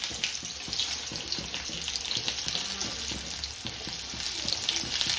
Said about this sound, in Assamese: পিয়াজখিনি ভাজিলো